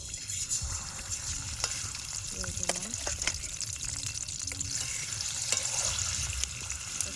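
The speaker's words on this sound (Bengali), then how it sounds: "আমি তেল দিয়ে দিচ্ছি মাছ ভাজবো" Salt and turmeric rubbed fish fries in hot oil in a pan outdoors on a windy riverbank, a steady close sizzle with frequent sharp spits and pops and a few clinks.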